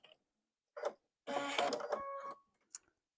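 A home sewing machine feeding bias-edged fabric for a 45-degree diamond quilt border: a short burst, a pause, then a longer steady run of rapid mechanical stitching close by, ending with a faint click.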